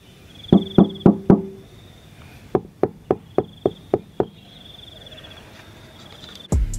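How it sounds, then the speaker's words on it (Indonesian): Knocking by hand on the door and body panels of a 2016 Honda Mobilio E CVT, about four quick close taps followed by a second, slower series of about seven, loud and sharp, alone against a faint high hum. "Yang bodi lainnya bunyinya masih kaleng teng-teng, yang satunya udah deb enak"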